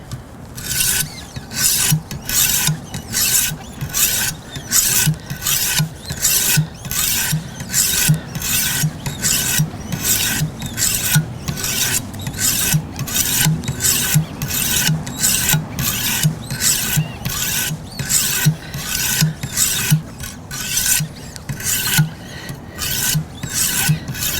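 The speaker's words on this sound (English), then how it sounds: "I'm going to switch over and do it with the 600 grit stones" Repeated rasping strokes of a knife edge drawn across 600 grit stones on a Wicked Edge WE130 sharpener, steady and close, with a regular back-and-forth rhythm throughout and no talking.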